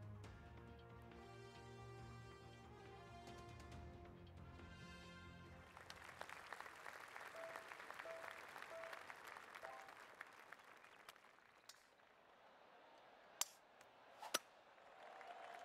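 Crowd cheering and applauding from the video game PGA Tour 2K23, a steady wash of clapping and cheers filling the whole stretch, with a few sharp pings and clicks near the end.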